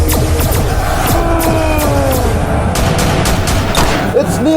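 Gunfire sound effect from a Lego zombie film, a dense, continuous barrage of loud shots and booms layered over battle noise for the whole stretch, with no clear gaps between bursts.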